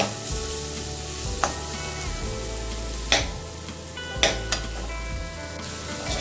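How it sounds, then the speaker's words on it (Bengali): Vegetables fry on a low flame with a steady sizzle, broken by a few sharp spatula clicks and scrapes against the pan at irregular moments, close and without speech. "সবজিগুলোকে আমরা হালকা আঁচে ভাজবো"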